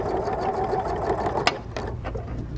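A sewing machine stitching a quilt seam, a close, steady rapid mechanical chatter that runs for a couple of seconds, with a small click midway before it slows.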